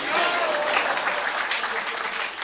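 Audience applause at a Hindi kavi sammelan poetry gathering held in the Delhi assembly, a dense continuous burst of clapping from a crowd, close and fairly loud throughout.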